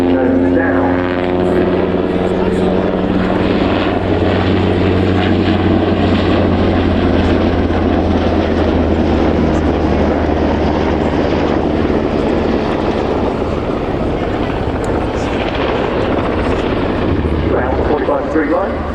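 An NH90 helicopter flying its display at the RIAT airshow, climbing and diving nose-down: a loud, continuous rotor and turbine roar that swells and fades slightly, with a commentator talking over it.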